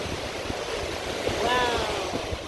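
Strong ocean waves surge in at a beach on a windy day, a broad steady wash of surf filling the scene with a brief swell of louder rushing midway.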